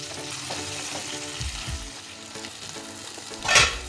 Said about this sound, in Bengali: আলু পটলটা খুব সুন্দর করে ভাজা হয়ে গেছে